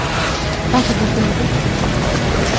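Rain falling outdoors on a foggy hilltop during training, a dense, steady hiss of drops filling the background with faint voices mixed in.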